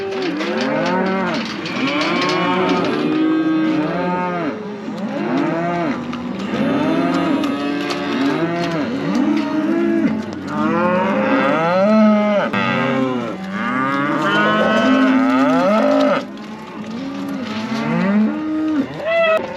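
Cattle being sorted for weaning moo loudly and without pause, many overlapping calls from cows and calves nearby, alone with no talk.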